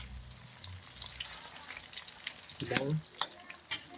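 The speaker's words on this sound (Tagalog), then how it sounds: "Lutuin natin yung kamatis. Na maluto siya." Tomatoes fry and get stirred in a pan, with a steady low sizzle and a few clattering stirs near the end, under a brief word of talk.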